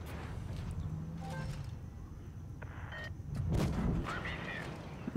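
A tank cannon fires in the World of Tanks Blitz game, a single heavy boom in the middle of low engine rumble and small mechanical clicks, with no talking.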